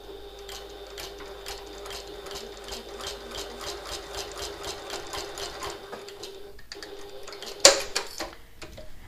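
A sewing machine sews a quarter-inch seam on a classic handbag with a rapid, even ticking stitch rhythm, close and fairly quiet, pausing briefly near the end where a sharp clack is heard.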